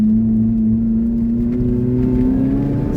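A Lotus Elise sports car pulls along a mountain road, its engine a loud, steady drone that rises slowly in pitch, heard from inside with no talking.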